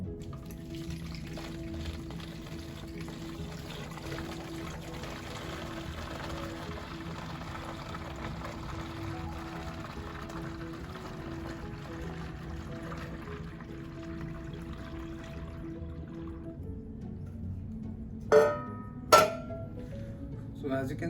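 Water runs steadily into a plastic bottle for a long stretch, with a hollow filling tone, then stops, followed by a couple of sharp knocks.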